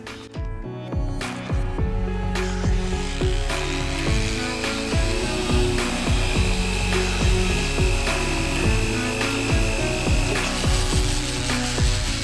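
A mini jigsaw cuts through a piece of organic wood for woodturning, giving a loud, steady buzzing rasp with a rapid reciprocating rattle that runs nearly unbroken, close up, with no talking.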